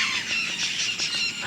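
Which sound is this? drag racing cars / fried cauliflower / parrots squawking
parrots squawking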